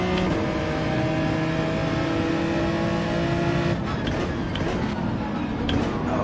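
Race cars in Gran Turismo 7 on PlayStation 5, including a Ferrari and a Lamborghini, give a sustained high engine whine with layered tones that shift pitch and roughen partway through as the cars brake and jostle.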